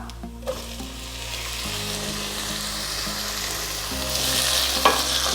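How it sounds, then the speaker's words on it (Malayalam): Tomatoes sautéing in a pan for vegetable biryani, a steady soft sizzle close by with a low background hum and one sharp clink of a utensil near the end. "ഇനി നമുക്ക് ഇതിലേക്ക് എടുത്തു വെച്ച തക്കാളി ചേർത്ത് കൊടുക്കാം"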